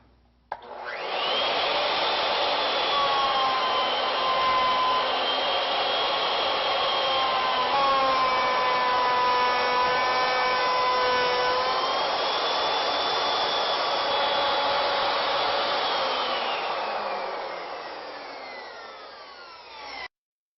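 A wood router cuts a tapered section through a board, its high motor whine holding loud and continuous for about twenty seconds, with the pitch wavering under load before it fades as it winds down.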